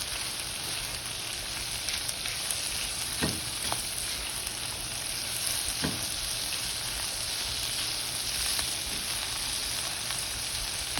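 Pork sisig frying in hot oil until crispy gives a dense, continuous close-up sizzle at even loudness, punctuated by a few sharp pops and crackles, with no talking.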